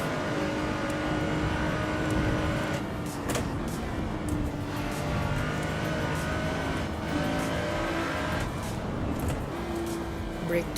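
A supercharged Lotus race car in Assetto Corsa Evo drones steadily at moderate volume for about eleven seconds, the engine tone rising and falling with tire noise beneath a voice talking over it.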